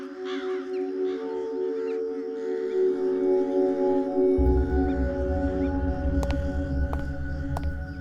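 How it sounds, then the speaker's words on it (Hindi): Crows cawing repeatedly with harsh calls, later joined by a loud low droning hum and sharp clicks, no one speaking. "ये कौवे यहाँ पर ऐसे ही रहते हैं क्या? इनके कांव कांव ने मेरा सिर दुखा दिया है।"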